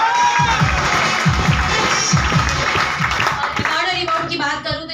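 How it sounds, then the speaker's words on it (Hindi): An audience at a multi-level-marketing plan presentation in a hall in Rajnandgaon claps and cheers loudly, with a dense spread of applause and shouts that thins toward the end. "जोरदार तालियां होनी चाहिए"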